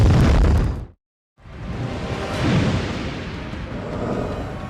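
A loud, rumbling explosion sound effect meant to evoke solar eruptions in space. A heavy roaring blast cuts to silence, then a second long, swelling rumble builds and sustains to the end.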